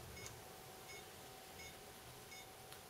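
A small handheld beeper device gives short, faint, evenly spaced electronic beeps about every 0.7 seconds, keeping a steady timing beat over a low background hum.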